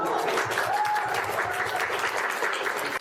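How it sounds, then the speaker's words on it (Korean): An audience at an event honoring overseas adoptees breaks into applause, dense continuous clapping at an even level throughout. "한 박수 부탁드려요."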